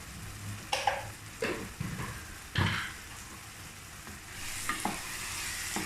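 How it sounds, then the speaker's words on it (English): Masala cooking in a pot over low heat, soft sizzling under several distinct scraping stirs of a spoon against the pot, close and intermittent, with no talk. "this is the time to put the fire in low and let the masala simmer nicely"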